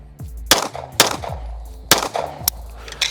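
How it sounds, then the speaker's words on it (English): Four sharp gunshots from a 2011 Gibson Custom Guns pistol nicknamed El Gordo, fired at a steady pace at close range and loud, each with a short echo tail. "All right, I'm shooting a little high."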